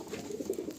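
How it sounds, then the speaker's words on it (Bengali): Andhra Lalsira pigeons coo softly in a breeding loft, a brief, faint, low burbling close by with no voices. "এগুলো একদম পুরো ব্রিডিং রেডি পায়রা।"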